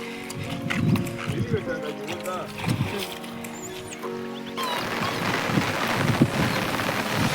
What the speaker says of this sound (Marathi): बघू शकतो मी तेवढ्या जोरात पाऊस आला आता